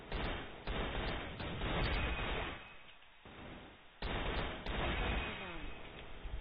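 Rapid bursts of QBZ 03 rifle fire in a shooter video game, loud clustered shots with short gaps between volleys, no voices.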